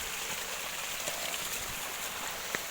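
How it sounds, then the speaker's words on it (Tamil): Floodwater rushing forcefully through a breached paddy field, a steady broadband wash of flowing water with faint splashes, moderately quiet and continuous, no voices. "தண்ணி எவ்வளோ ஃபோர்ஸாக வருது பாருங்க."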